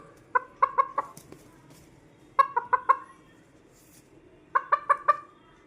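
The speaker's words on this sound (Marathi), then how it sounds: "ए कोंबडा आहे देखो कैसा आहे टोको टोको टोको टोको" A bird gives three bursts of quick, sharp clucks, each a run of four close calls, loud and nearby over a faint background hum.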